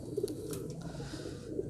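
Soft, low cooing from a pigeon, a few brief coos close by over a steady background hum.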